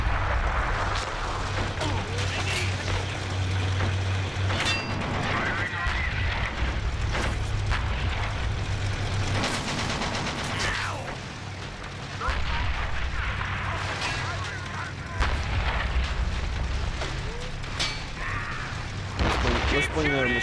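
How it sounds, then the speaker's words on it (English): Mortar and artillery fire in the video game Men of War Assault Squad 2, with repeated booming blasts and rumbling explosions over a steady low battle din, while players talk over the action. "Put that mortar in. Bring that mortar up."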